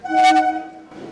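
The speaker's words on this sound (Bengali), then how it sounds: "বন্ধুরা আপাতত আমাদের ট্রেন ছাড়লো দমদম জাংশন ডিডিজে কোড।" A Kolkata suburban local, a 12-car rake from the Barasat car shed, pulls out of Dum Dum Junction with one short, loud, tonal horn toot that fades within a second.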